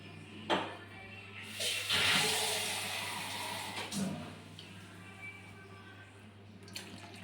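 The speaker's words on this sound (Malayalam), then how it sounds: "ഇളക്കിച്ച് ഇച്ചിരി വെള്ളം ചേർക്കാം" Water splashes and trickles into a pan of egg curry with coconut in short bursts, with a low steady hum in the background and faint clatter.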